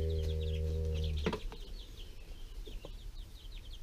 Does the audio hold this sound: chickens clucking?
yes